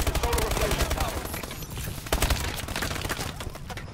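Dense rapid gunfire from the Rigger gun in a shooter video game crackles steadily through a busy battle mix of explosions and effects, with a voice talking over it.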